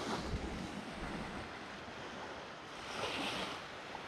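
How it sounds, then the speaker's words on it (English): Surf rolls in steadily at Trigg Beach, a broad continuous wash of breaking waves with wind noise, swelling slightly louder near the end, no voices. "Waves coming in."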